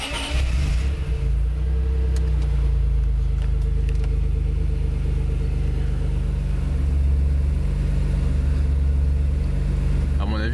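A warmed-up Maserati 4.24V engine idles at a steady low rumble with a faint speed-up near the start, close and continuous, while someone talks over it.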